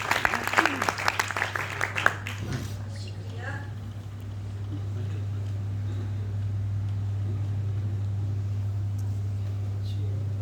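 Applause breaks out at a mushaira poetry gathering in Meerut as a poet is welcomed: a dense burst of clapping for a couple of seconds, then a fade into a steady hum of the hall's sound system.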